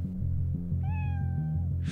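A single drawn-out cat meow from Cyberpunk 2077 rises over a steady low electronic hum of game music, clear and close, lasting under a second.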